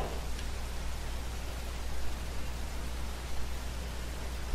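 Steady rainfall in the video game Heavy Rain makes a dense, even hiss of drops with a low rumble underneath, continuous and fairly loud throughout, with no speech.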